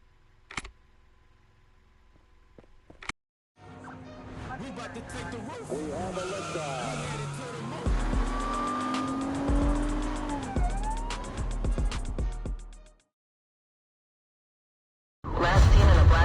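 Car driving in the One State RP police role-play video game, engine and road noise running steadily for about nine seconds between short pauses, with a brief burst of sound at the end.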